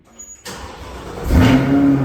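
In the video game Forza Horizon 5, a Chevrolet C8 Corvette engine catches and then revs up into a loud, rising roar that holds at high pitch, heard up close with no voices.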